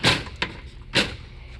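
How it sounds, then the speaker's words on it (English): Screen door of a 2021 Seneca 37TS motorhome being shut, giving a sharp slam and then a softer knock, followed by a second louder bang, all close by with no talk. "close the screen door now"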